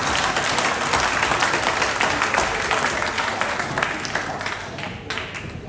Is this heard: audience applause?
yes